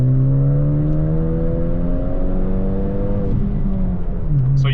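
A Ford Focus ST engine, running on flex fuel through a port injector controller, revs up steadily from idle with a brief sputter at the start, the loud close drone climbing in pitch and then settling, with no talking.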